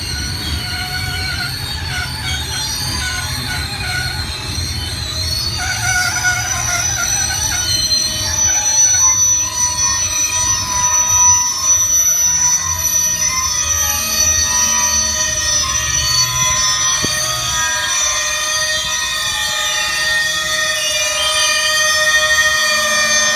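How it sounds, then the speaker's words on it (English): Loaded coal train going into emergency braking, with long high-pitched wheel squeal and grinding over a steady rumble of rolling cars, heard nearby and continuing throughout. "this coal train just went into emergency"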